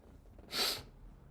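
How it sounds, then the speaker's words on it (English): A single short, faint nasal sniff from one person, breathy and brief against quiet room background. "Why am I sniffling now?"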